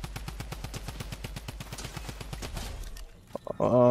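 Rapid automatic gunfire in Fortnite, a fast steady burst of shots for about three seconds, then a few isolated shots and a sharp electronic tone.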